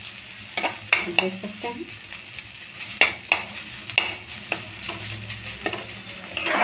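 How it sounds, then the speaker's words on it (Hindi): Grated mixture with garlic paste being stirred and mixed in a pan while preparing litti, giving repeated scraping clinks of a spoon against the pan at an uneven rhythm, close up, with someone talking briefly. "कद्दूकस किया हुआ है, मैं इसमें मिक्स कर रही हूँ।"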